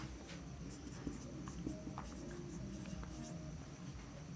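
Quiet, continuous scratchy strokes of an answer being written by hand during a math lesson, close and faint, running steadily over the whole stretch without speech.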